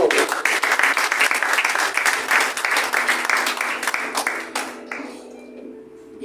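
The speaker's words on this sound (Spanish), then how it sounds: "¿Por qué no le das un aplauso al Señor?" A church congregation claps and applauds warmly during a Spanish-language sermon, a dense steady wash of hands that fades out over the last couple of seconds.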